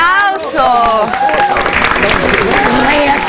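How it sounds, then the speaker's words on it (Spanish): Studio audience claps for a 90-year-old mother of eleven, loud continuous applause swelling up after a moment of speech, with voices carrying over the clapping. "11 hijos, un aplauso."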